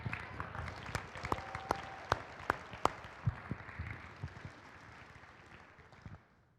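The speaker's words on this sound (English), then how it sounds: "why don't you guys give them a round of applause?" A high school academic awards audience applauds parents, with sharp individual claps ringing out over a softer bed of clapping that gradually fades away in a large hall.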